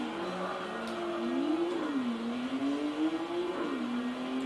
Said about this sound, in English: the engine sound looks like Nissan